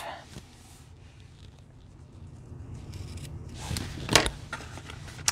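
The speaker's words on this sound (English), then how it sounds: "So now I'm just going to trim it off." Scissors trim ribbon on a gift box, a short snip near the end after soft rustling and handling of the ribbon, close and fairly quiet.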